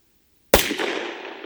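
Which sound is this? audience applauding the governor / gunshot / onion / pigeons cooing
gunshot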